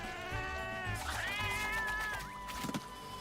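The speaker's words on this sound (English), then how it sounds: "They just use the same cat sound effects." Cat meow sound effects from the video game Monster Hunter Rise: Sunbreak, several high harmonic mewing calls in quick succession, loud and clear over a low game backdrop.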